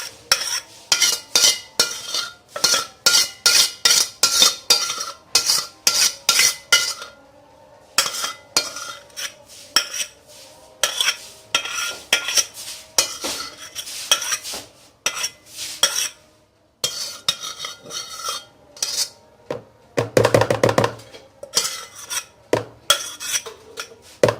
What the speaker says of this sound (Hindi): अब ये जो सॉस हमने बनाया था इसके अंदर मिक्स कर देंगे।